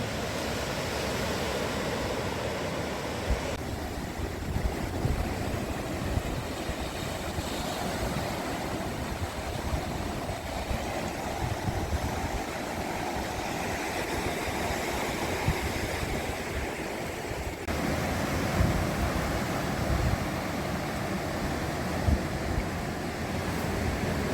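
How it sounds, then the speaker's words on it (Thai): Steady roar of rough rainy-season surf at Koh Chang, Thailand, waves crashing continuously with wind noise buffeting the microphone throughout; no voices. "ดูน้ำทะเล น้ำทะเลแรงมาก ไม่ได้ลงเลยนะ คลื่นมันแรงนะ"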